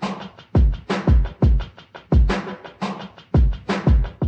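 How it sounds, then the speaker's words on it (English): A drum track from a hip-hop instrumental layered with chopped vinyl drum samples: punchy kicks and snares hit in a steady, swung groove of repeated hits, loud and close with a gritty, textured top end, no voices. "I put these vinyl drum chops on it and it sounds like this"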